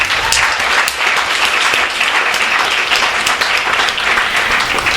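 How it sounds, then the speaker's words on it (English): A book event audience breaks into loud, sustained applause for the author's appearance, a thick wash of clapping close by with scattered voices beneath. "Let's clap already."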